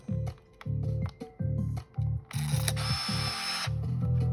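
A Fuji DL-350 film camera flash charging gives off a rhythmic pulsing electronic hum with a steady high tone, and a burst of hiss partway through.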